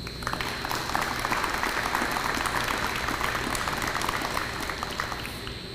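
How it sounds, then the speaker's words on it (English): A seated audience applauds steadily at an in-person college partnership announcement, a full, even round of clapping from a crowd indoors that continues throughout without anyone speaking. "Please give them a round of applause."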